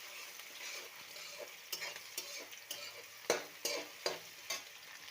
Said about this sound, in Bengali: আর পেঁয়াজটা একটু প্রথমেই লাল লাল করে ভেজে নেব